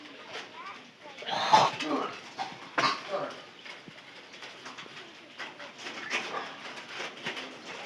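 Pigeons coo and flutter close by among farm noises, with people talking over them and occasional louder bursts of wing movement and handling.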